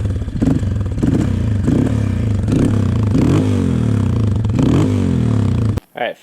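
A Honda CRF230 dirt bike struggles to start, with repeated loud cranking and sputtering bursts that catch briefly in an uneven rhythm before stopping, then a short voice at the end.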